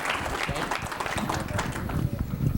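A morning studio audience gives a bright, loud round of applause, dense rapid clapping close by and sustained throughout.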